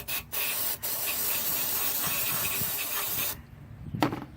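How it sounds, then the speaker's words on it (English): Carb cleaner sprayed liberally into a Ford Mustang throttle body with the plates held open, a steady close hissing spray for about three seconds, then a brief pause and a short final burst. "You get you some carb cleaner and spray liberally."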